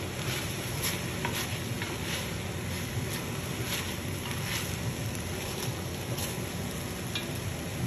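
Carrots, onions and celery cooking at low heat in a pot for lobster borscht give a steady, fairly loud sizzle with faint crackles throughout.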